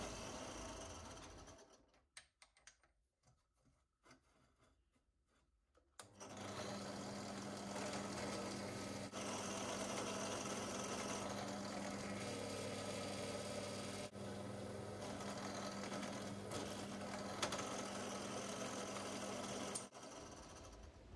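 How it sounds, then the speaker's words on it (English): A steady, droning whine of a drill boring pilot holes into metal for a Honda six replica runs for about fourteen seconds after a quieter stretch with a few faint clicks. "It's important to drill a small pilot hole first."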